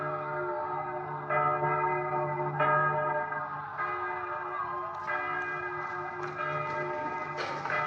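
A large temple bell rings repeatedly, each loud strike blooming into a long humming resonance that overlaps the next, with no talking.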